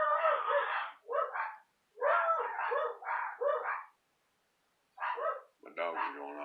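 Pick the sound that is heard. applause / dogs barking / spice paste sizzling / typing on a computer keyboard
dogs barking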